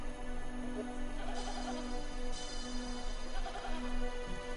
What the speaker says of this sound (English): Two Bedouin shepherds are moving a herd of goats along the cliffs of Qumrun